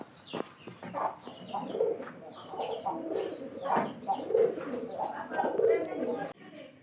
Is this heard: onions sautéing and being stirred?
no